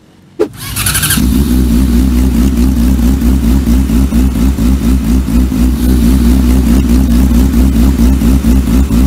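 A motorcycle with an aftermarket exhaust fires up with a sharp crack, then idles loudly with a deep, rapid, throbbing exhaust note that stays steady throughout.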